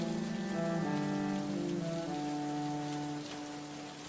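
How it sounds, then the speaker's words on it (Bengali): Heavy rain pours outside a house on a rainy day in a cartoon fairy tale, giving a constant, dense hiss at steady loudness. A sustained musical tone plays over the rain, and no thunder stands out. "বাইরে যা বৃষ্টি হচ্ছে"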